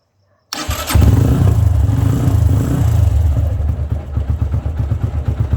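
A motorcycle with a self-start battery cranks and fires up abruptly, then settles into a loud, steady close-up idle with a rhythmic engine throb, no voices present.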